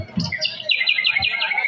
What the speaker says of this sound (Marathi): पक्ष्यांचा किलबिला